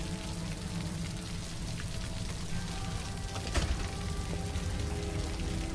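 Steady rain falls with a dense, continuous patter and hiss of drops on surfaces, loud and close throughout, with a brief sharper splash near the middle and no voices.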